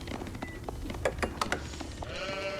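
Sheep bleat several times in quick succession in the real-time strategy game Age of Empires IV, short wavering cries over a low game ambience.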